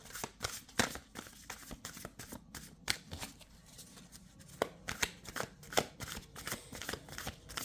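Tarot cards being shuffled by hand, a steady run of crisp riffling flicks and soft slaps close up, with no talking over it.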